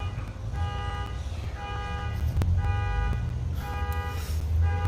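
An alarm outside repeats a pulsing electronic tone in regular bursts over low rumbling background noise, moderately loud and somewhat distant, with no talk.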